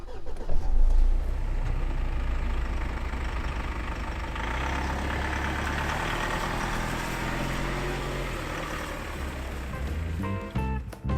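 A 2020 Mitsubishi L200 Triton engine cranks and fires, then settles into a steady, fairly loud idle hum that holds evenly, with a few light clicks near the end.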